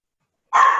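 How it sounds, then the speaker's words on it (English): A dog barks loudly and close after half a second of silence, a single harsh burst aimed at another dog in the house. "my one dog's growling at my other dog"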